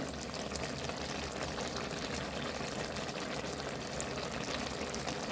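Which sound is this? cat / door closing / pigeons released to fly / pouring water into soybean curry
pouring water into soybean curry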